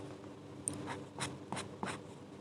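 A pen scratches across paper in several short, close strokes at an uneven rhythm, quiet against a faint background hum.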